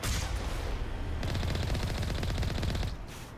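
Sustained automatic gunfire in the video game Mass Effect rattles loud and close in a fast, even stream of shots for about three seconds, then cuts off into quieter ambience.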